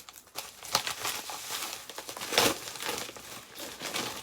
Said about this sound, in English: Why would I have scissors to tear open a package